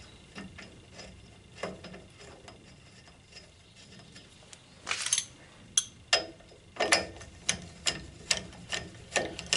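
A ratchet wrench tightens the lower bolts on the rear axle of a Citroën Traction 11B, starting as faint scattered clicks and building into a regular series of sharp, close ratcheting strokes.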